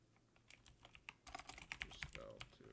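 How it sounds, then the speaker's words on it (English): Fingers tap out text on a computer keyboard while entering data into a spreadsheet, a faint, quick patter of irregular clicks that grows busier midway. "My typing isn't great."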